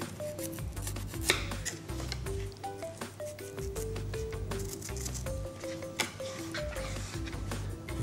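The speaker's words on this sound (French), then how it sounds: "Je vais procéder à la même découpe pour le céleri" Knife chopping washed, peeled celery stalks into thin slices on a cutting board, a steady run of crisp rapid taps close to the microphone with music playing underneath.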